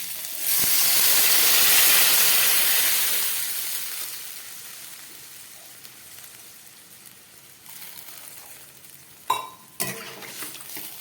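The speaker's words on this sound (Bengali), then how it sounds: "এবার আমি জল দিয়ে দিচ্ছি।" Water is poured into a pan of sautéed vegetables with green chillies for a Bengali fish curry, setting off a loud, close burst of sizzling hiss that slowly fades, followed later by a couple of clanking stirs.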